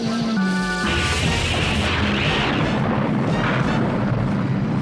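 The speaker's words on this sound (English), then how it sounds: "My protective force field is shattered!" A cartoon force field shatters in the 1984 Transformers series, a loud crashing smash that rumbles on with a sustained, roaring decay under a fading musical tone.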